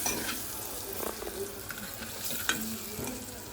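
Onion and tomato cooking in a pan in a home kitchen as masala is added and stirred in, a soft continuous sizzle broken by scraping stirs and a few sharper clinks.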